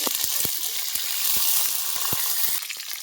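Two dried chillies, a bay leaf and half a spoon of cumin sizzle hard in hot mustard oil. The frying hiss is loud and steady, with sharp crackles and pops scattered throughout and no voices.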